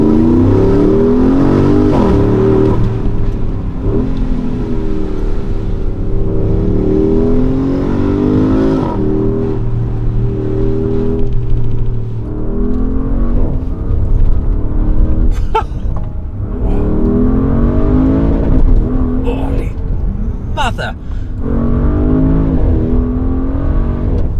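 A 2020 Porsche Cayenne Turbo Coupe accelerates hard from inside the cabin, its engine note climbing through gears in rising sweeps with brief shift breaks, loud and continuous, with no talk.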